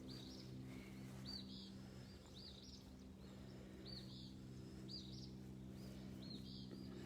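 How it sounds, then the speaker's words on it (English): Small birds chirp outdoors in short, repeated high calls that come every second or so, faint and somewhat distant over a low steady hum, with no voices. "You hear those birds, Roxy?"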